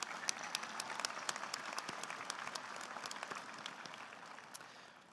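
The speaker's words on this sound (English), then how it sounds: "let's give them all a heartfelt round of applause for being the essential backbones to our time here" Steady, dense applause from a large commencement audience at a spring business school graduation ceremony, a continuous wash of many clapping hands heard from a distance that fades slightly toward the end.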